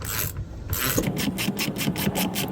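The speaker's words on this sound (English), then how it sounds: "With the 7/16 socket, let's see if we can remove these crusty old nuts." Ratchet wrench with a 7/16 socket working crusty old nuts loose on a Seastar Classic boat hydraulic helm pump tilt mechanism, rapid rhythmic clicking pawl strokes after an initial scrape, close and clear with no talk.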